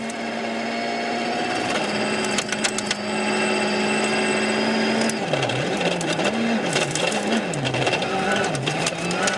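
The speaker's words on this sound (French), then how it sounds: "on voit une Citroën DS3 qui patine beaucoup, qui fait pas mal d'embardées" A Citroën DS3 rally car slides across a forest stage at Wales Rally GB 2012, its engine whining steadily, then rising and falling in quick revving swoops, with scattered sharp crackles over the noise.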